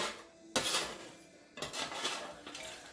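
Crispy potatoes are dumped into a pan with a few sharp scraping clatters of utensil against the pan, separated by quieter rasping stirs.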